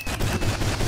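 Rapid gunfire in the Roblox game Lucky Block Battlegrounds, a fast run of close, loud shots in quick bursts with no talk over it.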